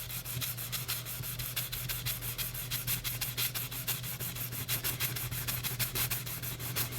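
Fine-grit sandpaper, around 1200 to 1500, rubs back and forth on the wood of an archtop guitar in quick, steady, close-up strokes at a soft level.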